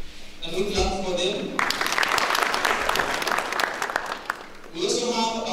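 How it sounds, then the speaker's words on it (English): A crowd claps steadily for several seconds, a dense burst of applause, with a voice speaking just before and after. "Can we clap for them?"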